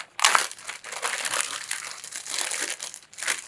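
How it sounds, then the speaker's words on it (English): A plastic bag being turned inside out for a toy parachute, rustling and crinkling loudly up close in bursts, sharpest at the start and again near the end. "With our plastic bag, I'm going to pull it inside out."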